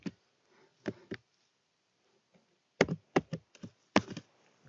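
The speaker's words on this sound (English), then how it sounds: "Type in your password." Keys on a computer keyboard clack as a password is typed, in two bursts of irregular taps separated by a quiet pause, close and fairly soft with no talking.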